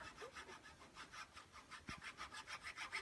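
Hand file worked back and forth to square the holes in a knife handle for a hidden tang, about a dozen regular rasping strokes, close and quiet, with no voices.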